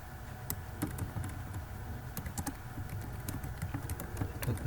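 Keystrokes clatter on a computer keyboard while editing a DNS server config file in a terminal, quick irregular clicks at close range over a low steady hum.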